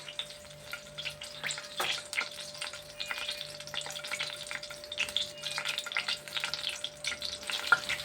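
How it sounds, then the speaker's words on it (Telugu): Sliced onions frying in a hot pan give a soft, continuous sizzle with occasional stirring scrapes and clinks, fairly quiet and close, with no talking. "ఉల్లిపాయలు వేసానండి."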